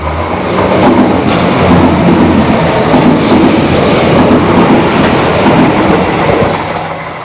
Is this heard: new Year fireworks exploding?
no